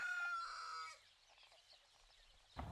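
Rare-breed chickens in a backyard aviary, with a rooster's crow up front and then soft clucking and scratching, faint and close.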